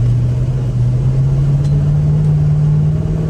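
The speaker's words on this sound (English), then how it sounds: "Sure, it's a little buzzy on the highway though." A 1969 Plymouth GTX Hemi with 410 gears drones loudly at highway speed, heard from the interior as a steady, buzzy low hum that holds constant pitch over rushing road noise.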